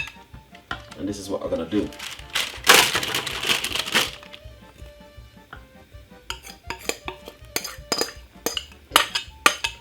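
A metal oven tray clatters and clinks in bursts as it is handled in a kitchen before roasting vegetables and salmon. Dense rattling comes in the middle, with sharper knocks near the end, mixed in with a person talking.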